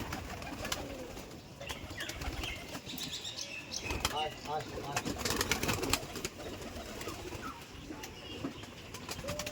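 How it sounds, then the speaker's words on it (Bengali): Pigeons pour out of their loft with bursts of wing flapping and scattered coos and chirps, busy and close, against steady background noise. "পায়রা বেরোচ্ছে এখন"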